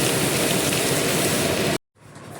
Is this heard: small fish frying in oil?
no